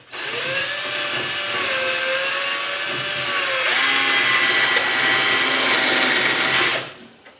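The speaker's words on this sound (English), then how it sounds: "Alright, I'm going to drill that." A power drill whines steadily for several seconds with a rising and falling motor pitch, hogging out a hole in a custom airbox for a 1985 Mazda RX-7, then stops abruptly.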